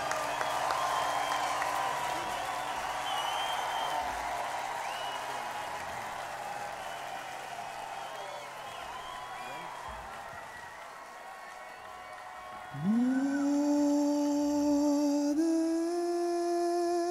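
A concert crowd at an Extreme show in Boston sends up a broad wash of applause and cheering that slowly fades, then a sustained guitar or synth tone rises loudly near the end.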